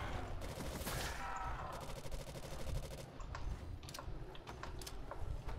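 Rapid gunfire rattles through a World at War custom zombies map set at a glacier firebase, fast bursts of automatic shots with sharp cracks, loud and close, continuing with brief gaps.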